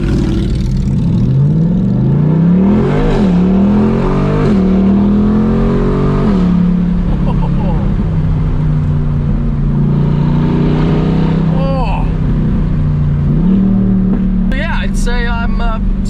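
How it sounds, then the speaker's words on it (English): C8 Corvette with a very loud exhaust and dual-clutch gearbox, revving hard and accelerating close by with rising and falling engine pitch and quick crackling shifts, the roar steady and dominant throughout. "Exhaust like this, combined with the dual clutch, is something else."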